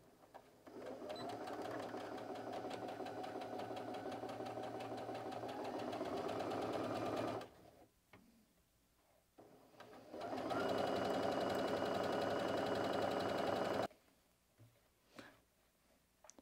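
A domestic sewing machine stitches along the edge of a pocket on a fabric organizer at stitch length 6.0, running in two long, steady bursts of close, rapid whirring separated by a brief pause with small handling clicks.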